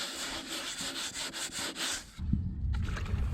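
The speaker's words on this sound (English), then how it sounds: "I ferret out with a wet mesh sander, better than wet and dry or sandpaper that clog up too much" A wet mesh sander scrubs a boat hull before antifouling, with quick rhythmic back-and-forth rasping strokes up close, then a short pause and heavier, denser rubbing.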